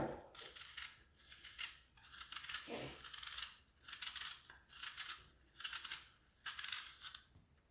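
An apple is peeled for a butter-free apple cake, giving quiet, close scraping and crisp slicing strokes in repeated bursts with short pauses between them, faint against a soft room background.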